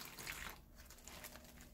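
Warm water is poured into a bag, a soft, close trickle and splash lasting under two seconds, faint and alone.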